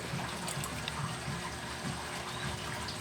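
Reef aquarium wave pump running at full power in a 90-gallon tank, giving a faint, steady wash of flowing and sloshing water with soft gurgles throughout.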